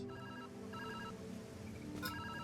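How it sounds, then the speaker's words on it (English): A telephone rings in the video game Viewfinder, repeated trilling bursts sounding alone at moderate level with no one talking. "Oh, phone's ringing."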